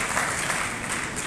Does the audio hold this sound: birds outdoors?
no